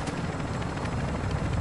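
A video game helicopter drones with a loud, continuous rotor thrum, steady and close for the whole moment.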